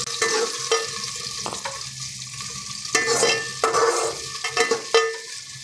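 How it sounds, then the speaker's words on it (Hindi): Onions frying and being stirred in a pan while a chana dal and karela dish is cooked, steady sizzling with repeated close scraping strokes of a spoon against the pan. "पहले असीं प्याज पा देने, प्याज में बच्चे हल्का ब्राउन कर लेने।"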